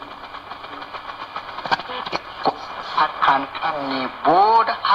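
A 1960s Soviet Kazakhstan tube radio receiver is tuned across the 10–14 MHz shortwave band late at night, giving a steady hiss and crackle with rising and falling heterodyne whistles and faint, garbled station voices drifting in.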